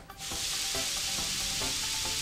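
Cooking in the video game Paper Mario: The Thousand-Year Door produces a loud, steady frying sizzle, a continuous hiss with faint rhythmic stirring taps underneath, close and alone with no talking.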